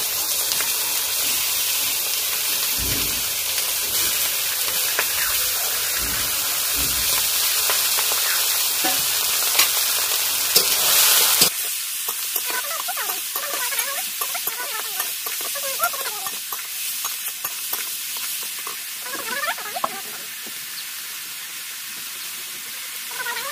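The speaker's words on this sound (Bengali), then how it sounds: "এবার আমি চিকেন গুলো দিয়ে দেবো।" Chicken pieces dropped into a hot pan for dhania chicken, sizzling and frying steadily with a loud hiss that drops to a quieter crackle partway through.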